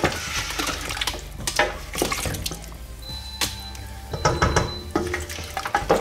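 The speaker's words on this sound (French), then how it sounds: "On mélange." Oxtail meat stirred in a hot pot, with wet sizzling and repeated scraping and clattering strokes of the spoon, close and fairly loud, without talking.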